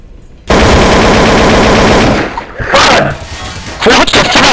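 Rapid automatic gunfire from Counter-Strike: Source, loud bursts of rattling shots filling most of the moment, briefly dipping before another burst, with excited shouting over it.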